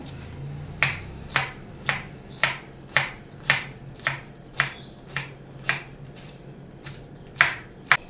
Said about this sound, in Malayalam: എത്രത്തോളം ചെറുതായിട്ട് അരിയാവോ അത്രത്തോളം ചെറുതായിട്ട് അരിയുന്ന നല്ലതാണ്